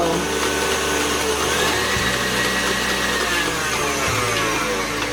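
A stand mixer whirs steadily, blending granulated and powdered sugar for vanilla sugar cookies, a continuous close motor drone with slight shifts in pitch and no pauses.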